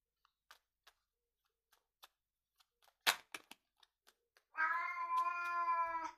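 Light ticking taps scattered through a quiet room, then a sharp rustle, followed by a long, clear cat meow up close.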